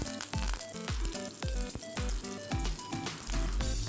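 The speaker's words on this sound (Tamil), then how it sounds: "1/4 ஸ்பூன் கடுகு வெடிக்கட்டும்." Mustard seeds, cumin and a dried chilli crackle in hot oil for a beetroot kootu, with rapid repeated sharp pops over a steady close sizzle.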